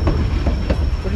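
The White Pass train rolls along its mountain rails after the 2021 landslide, a loud, steady rumble with faint rhythmic wheel clacks and no clear speech.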